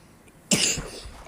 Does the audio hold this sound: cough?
yes